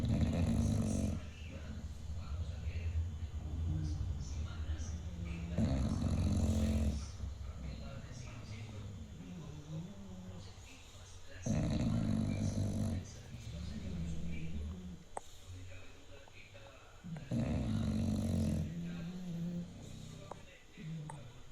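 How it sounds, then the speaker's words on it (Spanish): Bulldogs asleep indoors snore in slow, heavy cycles, each loud rumbling breath lasting a second or two with quieter gaps between, close and steady over a long stretch. "el nivel de ronquido me dice que siguen durmiendo"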